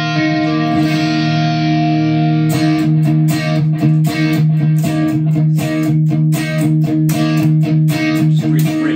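Electric guitar played through a delay pedal stacked with a second pedal, sustained chords ringing with repeating echoes, loud and continuous, rhythmic strums entering after a couple of seconds.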